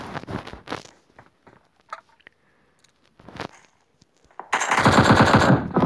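AKM rifle fire in a video game: short single shots and brief bursts early on, then a loud sustained automatic burst at the end, close and dominant, with no talk.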